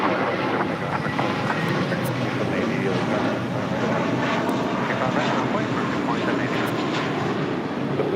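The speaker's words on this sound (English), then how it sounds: "It's meant to be taking off to New York on this A321, flight 1374." An Airbus A321 takes off at LAX, bound for New York, its engines a steady, broad roar held at an even level throughout, with faint talk underneath.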